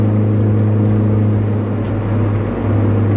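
A Mini Cooper S cruises on a highway, heard from inside as a loud, steady low engine drone with constant road and wind noise.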